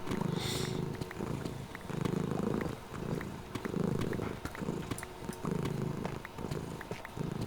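A happy house cat purring loudly up close, a soft rhythmic rumble pulsing with each breath in and out, steady and unbroken with no talking.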